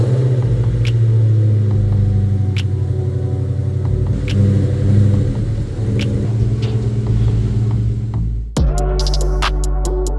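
A 2003 SVT Cobra cruises down the road, its engine a steady low rumble heard from inside the car with faint road noise, easing slightly before a brief dip and a shift in tone near the end.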